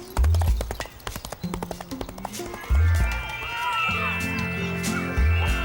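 Cartoon horse hooves in a children's show, a quick run of light clip-clop taps in bursts, mixed with cartoon sound effects and children's voices talking.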